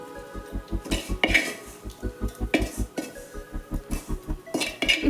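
Cooked masala being scraped with a metal spoon against a pan and into a mixer jar for chicken gravy, a close, steady run of rhythmic clinking and scraping strokes with occasional sharper metal knocks.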